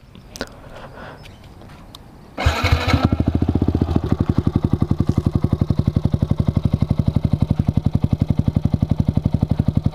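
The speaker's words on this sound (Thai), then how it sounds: "เดี๋ยวมาสตาร์ทให้ฟังกันเลย" A few faint clicks, then a Yamaha MSlaz 150 motorcycle with an Akrapovic-style aftermarket exhaust starts with a burst and settles into a loud, lumpy idle with rapid, regular exhaust pulses.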